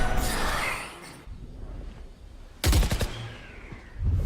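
Gunfire from the video game Valorant during a professional VCT Pacific grand-final esports match: a loud, sudden burst of rapid shots cracks out midway, then trails off into the game's ambient sound.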